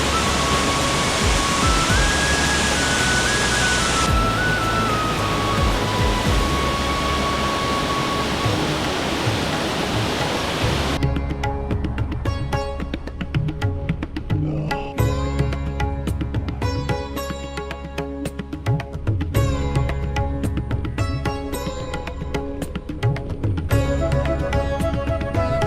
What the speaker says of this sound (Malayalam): അങ്ങനെ നമ്മളിവിടെ വഴിവെക്കിലൊരു വെള്ളച്ചാട്ടമുണ്ട്.